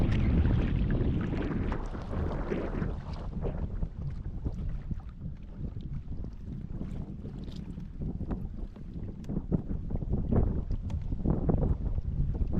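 Wind buffets the microphone on a pedal kayak crossing a hot lake, a gusty, rumbling, broadband rush with irregular thumps and water splashes that continues throughout at moderate loudness with no talking.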